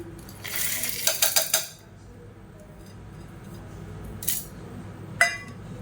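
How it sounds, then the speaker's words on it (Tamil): Roasted toor dal poured into a mixer jar for paruppu thuvaiyal makes a brief rattling clatter of dry lentils against the jar, followed by a couple of isolated light clinks in a quiet kitchen. "இப்போ வறுத்ததை ஒரு மிக்சி ஜாரில் சேர்த்துக்கலாம்"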